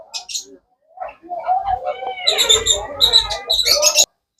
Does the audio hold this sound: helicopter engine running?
no